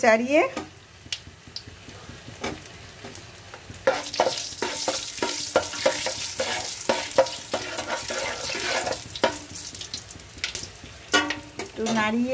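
Whole cardamom pods, cinnamon, cloves and mace stirred in hot oil in a pan for chicken pulao, a steady sizzle broken by repeated scraping clicks of the spoon, close and fairly loud throughout.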